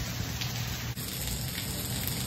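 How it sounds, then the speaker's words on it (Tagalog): Steady rain pours down outside a church at Las Casas Filipinas de Acuzar, a dense, even hiss of drops on surfaces that continues without a break and with no voices. "Umuulan po ngayon."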